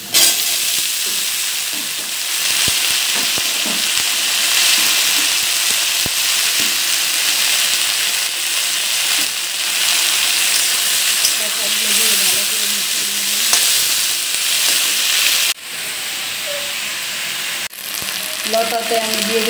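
Taro stolons go into a pan of onion and garlic fried red, a loud, close, continuous hissing sizzle with occasional stirring scrapes and a sudden drop in intensity late on.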